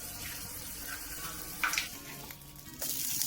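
An egg frying in a pan, giving a soft, continuous sizzle and crackle with a few louder hissing bursts, close by and without any talking.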